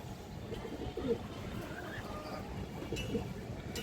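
A large female Khoragola pigeon gives two soft, low coos a couple of seconds apart, close by, over a steady background hum with a voice faintly present.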